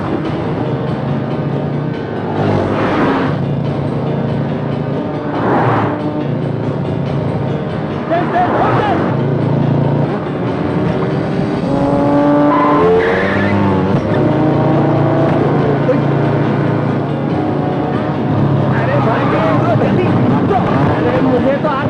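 An auto rickshaw is driven fast through a chase, its engine whining and roaring loudly with sharp surges and skidding squeals, mixed with dramatic background music.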